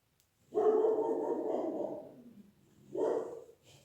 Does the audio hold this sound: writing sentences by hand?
no